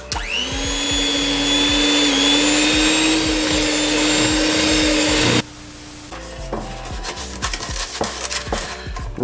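An electric mixer beats mashed banana into banana cake batter with a loud, steady motor whine for about five seconds. It then cuts off, followed by scraping and light knocking against the bowl.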